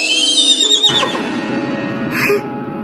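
A cartoon horse gives a loud, high whinny that trails off, followed by faint clip-clop and a short bright squeal, with no talking.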